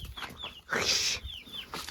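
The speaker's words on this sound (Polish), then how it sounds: "Tamta kura wyszła." Hens on a working farm cluck in short, close bursts, with one louder squawking call in the middle and quieter clucks around it.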